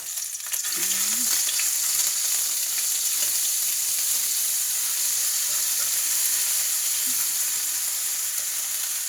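Loud, steady sizzling and hissing of pork and bamboo shoots stir-frying in a hot pan over medium heat, with occasional scraping from stirring throughout.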